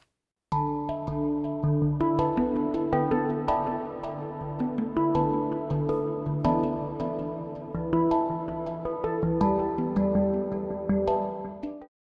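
Layered synth sequencer patterns from the Stochas probabilistic sequencer combine a low bass line, quick arpeggios and sparse chord notes into a busy, continuous musical texture, steady in level and without any voice.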